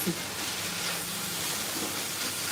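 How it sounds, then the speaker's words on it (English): Ground chicken, with a little tomato paste added, frying in a pan, giving a steady soft sizzling hiss that runs throughout at moderate level with no talk. "So now we're frying it up."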